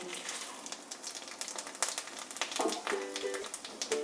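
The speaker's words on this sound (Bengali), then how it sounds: "তেলটা বেশ গরম হয়েছে এবার আমি ফোড়নের জন্য এতে ব্যবহার করব চারটে শুকনো লঙ্কা দুটো তেজপাতা আর অল্প একটু এক চামচ পাঁচফোড়ন" Four dried red chillies, two bay leaves and a spoon of panch phoron frying in hot oil give a close crackling sizzle with irregular pops and spits, while a voice talks over part of it.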